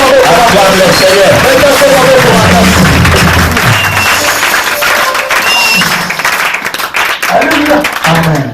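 A church congregation at an evangelistic service applauds and cheers to acclaim the Lord, a loud, dense wash of clapping and crowd voices with singing or shouting mixed in, sustained throughout.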